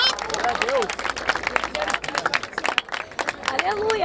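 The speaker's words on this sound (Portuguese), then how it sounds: "Palmas pra essa batalha!" A crowd at the Batalha da Aldeia rap battle in Barueri, São Paulo, claps in a dense, lively patter, while a loud voice shouts over the noise.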